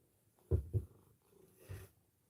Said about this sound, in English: He's very happy if you can hear him purring.